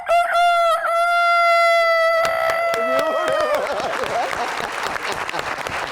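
A man imitates a rooster crowing with his voice, a loud, drawn-out call with rising and falling pitch, followed by a burst of audience applause that continues to the end.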